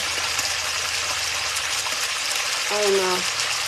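Pork chops frying in a pan, a steady broadband sizzle throughout with a brief tonal squeak near the end.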